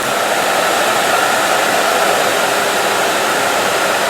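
An electric motor from a Jeep CJ7 EV conversion spins a newly balanced flywheel, giving a smooth, steady whirring rush that stays even and loud from start to finish.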